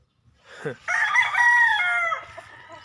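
A young gamefowl stag crows once, a close, loud, slightly ragged cock-a-doodle-doo lasting over a second, with a soft low hum of background noise.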